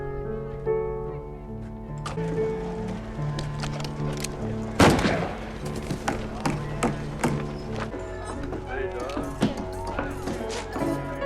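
Western-style gunfight from an episode of the series Westworld, with sharp gunshots cracking over music, one loud shot standing out near the middle and fainter pops scattered around it, with voices heard at times.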